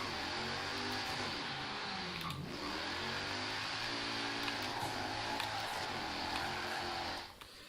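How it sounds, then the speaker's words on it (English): Car engine from the Forza Horizon 3 video game held at high revs during a drift, with a steady loud roar and shifting harmonic tones for most of the clip before it drops away at the end. "I can really push it and still begs for more angle"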